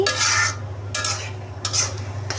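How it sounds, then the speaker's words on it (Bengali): Maggi noodles are being stirred with masala in a pan, giving three scraping sweeps with a soft sizzle in between, close and fairly loud with no talking. "ভালো করে একটু মশলাটা লুডুসের গায়ের সাথে মিশিয়ে তারপর ভালো করে রান্না করে নেব"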